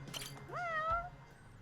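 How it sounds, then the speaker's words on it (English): A cat in the video game Judgment gives a single clear, rising meow, fairly faint and alone against a quiet background hum. "That's no pigeon. That's a cat."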